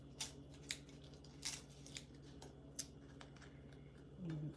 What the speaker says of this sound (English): so just go ahead and cut into smaller pieces